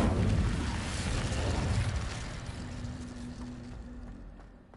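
An Incendio fire spell cast in Hogwarts Legacy bursts out as a loud, rushing roar with a low steady hum beneath it, then slowly fades away over about five seconds.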